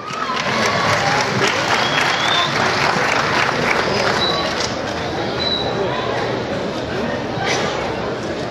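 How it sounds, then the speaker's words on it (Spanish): A crowd at a song contest in Ocotlán, Jalisco applauds to welcome competing duo singers, with sustained, moderately loud clapping mixed with crowd voices and a little cheering throughout. "Y les damos el aplauso cariñoso de ustedes para recibirlos."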